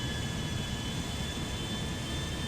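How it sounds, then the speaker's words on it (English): Jet engines of an A320 airliner spooling up for takeoff in a GTA 5 mod, a steady loud roar with a high whine running continuously, no voices. "Airplane's coming to life"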